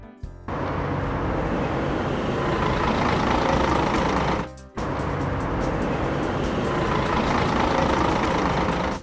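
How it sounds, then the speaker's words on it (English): Animated log truck driving, a steady broadband engine and road rumble that drops out briefly in the middle before carrying on at the same level. "Log truck."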